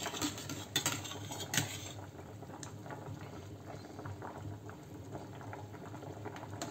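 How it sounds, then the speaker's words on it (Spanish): Bean and chickpea stew with chorizo bubbling away in a pot, a steady close simmer of popping bubbles with a few louder clinks near the start. "Esto lleva ahora 5 minutitos hirviendo"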